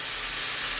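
Sauce-dipped tofu hitting a hot pan, a loud, close burst of bright steamy sizzle that fills the short moment without pause.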